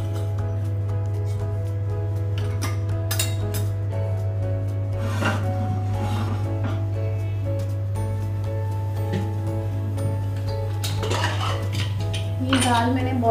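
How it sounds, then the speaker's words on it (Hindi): Boiled lentils are tempered as dal tadka in a pan with chopped garlic, ginger and green chili, heard as a metal spoon clinking and scraping against the pan in irregular bursts over a constant low hum. "अब मैं दाल में तड़का लगाऊंगी।"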